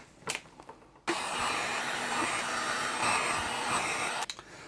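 A heat gun blows steadily for several seconds while shrinking heat-shrink tubing over spliced wires for a desk LED flood light install, a loud continuous airy roar that starts abruptly and cuts off, with faint handling noises before and after.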